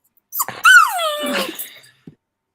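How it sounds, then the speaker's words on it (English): An upset dog gives a short whimpering whine that slides downward into a low growl, then a brief final yip, heard close and alone amid tennis match surroundings. "Got an upset dog."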